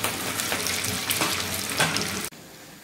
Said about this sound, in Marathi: आता हे वडे तयार केलेले आहेत ते आपण तळून घेऊयात